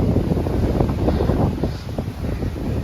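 Strong gusty wind buffets the microphone on a mountain ridge along the Suma Alps Umanose trail, a loud continuous low roar with rumbling surges throughout.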